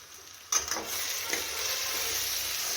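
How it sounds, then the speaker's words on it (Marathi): Spices being stirred into onions frying in a pan for a potato curry: a steady close sizzle with scraping stir strokes starting abruptly, no talk. "मिक्स करून घेऊ"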